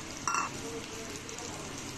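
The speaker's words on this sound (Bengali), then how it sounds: "কড়াইয়ে তেল দিয়ে কিছু আলু লাল করে ভেজে উঠাবো। এবার ওই তেলেই কিছু জিরে ফোড়ন, শুকনো লঙ্কা, কাঁচা লঙ্কা দিয়ে কিছু মুগ ডাল ভালো করে লাল করে ভেজে নেব" Mung dal fries in oil with cumin seeds and dried and green chillies in a wok, giving a steady, soft sizzle with one brief metallic clink near the start.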